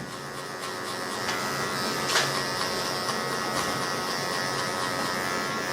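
Electric hair clippers with a number 2 guard buzzing steadily through a high taper haircut, a close, continuous motor whine with faint changes as the lever closes, no speech.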